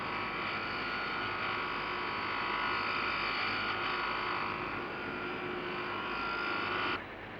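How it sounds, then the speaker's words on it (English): High-speed carborundum wheels grind the big end and main bearings of a Jaguar engine in a 1961 factory, giving a steady, loud, whining grind that holds for about seven seconds before abruptly dropping away. "Both big end and main bearings are then ground to extremely fine limits using high-speed carborundum"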